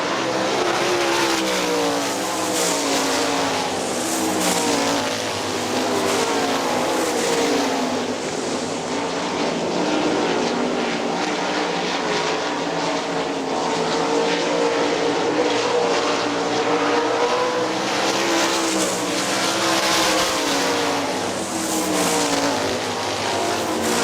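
Sprint cars race at Hartford Speedway Park in a Great Lakes Outlaw Sprint Series event, a dense, loud, continuous engine roar that swells and fades as the pack passes, with no talk over it.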